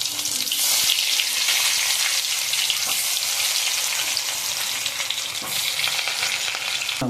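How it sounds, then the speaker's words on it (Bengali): Potatoes frying in hot oil with whole spices, a loud, dense, continuous sizzle close by with occasional stirring clinks, no talk over it. "মশলাগুলো একটু ভাজা ভাজা হলে একটা একটা করে সমস্ত আলু দিয়ে দেবো।"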